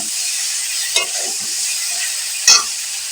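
Potatoes fry in oil in a pan with a steady, bright sizzle throughout. Two short scraping stirs from a utensil are close up.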